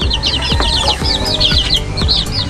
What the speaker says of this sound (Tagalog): Ito po ang aking binobrooding ng mga sisiw.